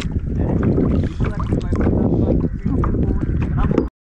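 A boat speeds across the sea, its motor and the rushing water and wind making a loud, continuous roar that cuts off abruptly at the end.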